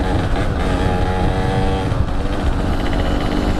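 A modified RX-King two-stroke motorcycle engine, recently re-jetted, revs loudly and steadily up close, its buzzing exhaust note holding throughout with no one talking.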